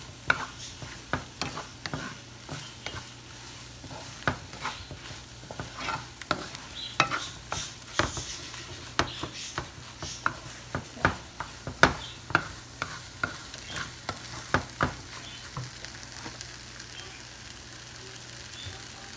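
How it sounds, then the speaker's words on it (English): A spoon stirs egg-tomato curry in a frying pan, producing steady rhythmic scraping knocks over a continuous low sizzle, close and fairly loud with no talking. "Now I'm going to mix and cook well until it's mixed"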